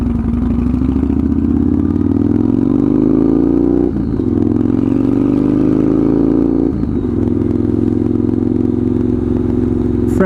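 Straight-piped motorcycle riding along a quiet, unbuilt neighborhood side road, its loud engine droning and rising steadily in pitch with two brief dips as gears shift, close and continuous throughout.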